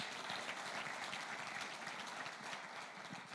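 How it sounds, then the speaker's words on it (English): A conference audience at an insurance gathering gives an honorary ambassador a round of applause. The clapping is faint and distant, an even wash of many hands with no talk over it. "can we give him a befitting applause for that?"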